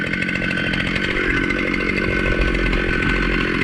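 A chainsaw mill fitted with a wooden bracket, its saw revving above 13,000 RPM, cuts thin veneers from a log outdoors, a loud, close, continuous high-pitched snarl that holds steady under load.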